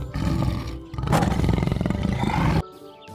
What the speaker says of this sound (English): This is tiger.